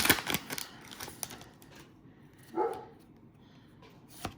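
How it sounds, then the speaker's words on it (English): A dog gives a single short bark a little way off, with scattered light clicking and tapping sounds around it. "That's my dog barking."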